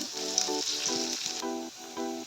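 Chopped carrots hit hot oil in a frying pan for Bengali-style egg chowmein and sizzle with a steady bright hiss, heard alongside a repeating melodic tone pattern of background music.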